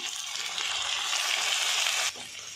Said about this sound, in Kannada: ಇದಿಷ್ಟನ್ನು ಸ್ವಲ್ಪ ಫ್ರೈ ಮಾಡ್ಕೋಬೇಕು